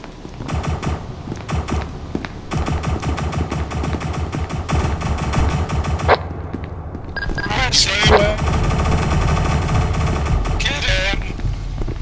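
Rapid machine gun fire and single gunshots crackle in an SCP roleplay video game, in dense bursts over about twelve seconds, with players talking over the shooting.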